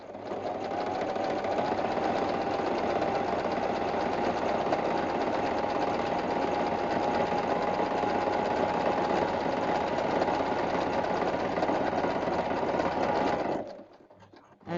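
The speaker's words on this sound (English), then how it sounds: "my needle is now in the right position to machine down the rest of this side here" A domestic sewing machine stitches steadily along the side of a quilted Christmas hanging, a close, even mechanical whir that runs without pause and then stops near the end.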